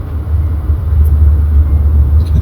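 A Toyota AE100 car is on the move in Kenya, with steady loud engine drone and low road rumble throughout and no change in pace.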